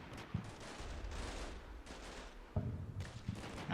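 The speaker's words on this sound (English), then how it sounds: "And we're getting some cannon fire down here," Distant cannon fire rumbles through a Combat Mission Shock Force 2 battle, a few dull thuds and sharp reports scattered over a steady noisy background of gunfire.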